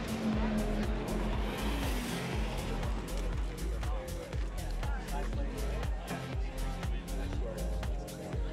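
A Faraday Future FF 91 electric car pulls off to start a lap on a racetrack, with a steady drive hum, tire noise and some squeal, loud and close throughout while people talk nearby.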